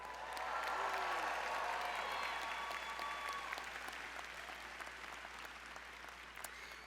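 Commencement audience at a UC San Diego doctoral and MFA graduation ceremony cheering and applauding, a broad sustained wave of clapping with whistles and shouts that swells loud early and then eases off gradually.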